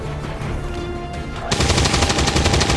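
Rapid automatic gunfire from XCOM 2 soldiers shooting at a zombie, a loud dense burst of shots that starts suddenly after a quieter stretch of game ambience and keeps rattling to the end.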